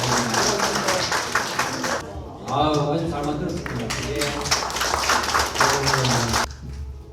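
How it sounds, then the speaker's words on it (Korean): A ceremony crowd claps in congratulation after a plaque and flowers are presented at a Korean Hanwoo beef checkoff board launch, steady clapping running under someone speaking briefly. "큰 박수로 축하해 아, 네, 주시기 바랍니다"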